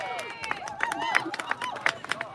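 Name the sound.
noise of a hostile protest crowd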